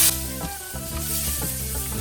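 Steady crackling sizzle of onions and curry leaves frying in hot oil, loud and close, with a brief stir partway through.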